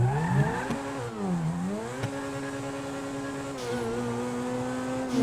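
A car in the GTA V video game launches with a double-clutch start, its engine note climbing, dipping at a gear change, then holding a loud, steady high rev across several seconds.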